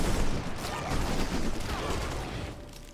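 Rapid bursts of gunfire from units shooting aliens in Civilization Beyond Earth, a dense rattling barrage that stays loud for a couple of seconds before thinning out.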